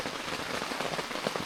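Steady rain drumming on a cheap camping canopy during a mountain thunderstorm in remote Appalachian Kentucky, a dense, continuous close patter with no voices.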